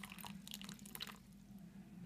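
Water is poured into a tarantula's small water bowl and spills over the edge, faint close drips and wet splashes in the first second, then a quiet hum.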